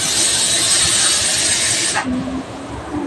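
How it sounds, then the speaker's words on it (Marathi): A pressure cooker holding dal and rice vents steam in a loud, close, continuous hiss for about two seconds, then cuts off abruptly, leaving a quieter room hum. "माझ्या कुकरची शिट्टी झाली."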